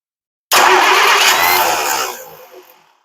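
A car engine cranks and catches abruptly, then runs loud and close for about two seconds before fading out as it dies back down.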